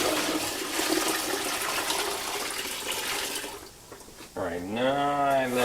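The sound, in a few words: water poured from buckets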